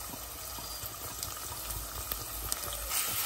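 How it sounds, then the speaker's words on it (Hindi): One large, finely chopped onion sizzles in hot ghee with whole spices over a high flame. A steady, soft frying hiss runs throughout with faint scattered crackles, and no one speaks. "अच्छे से फ्राई करिए गोल्डन होने तक।"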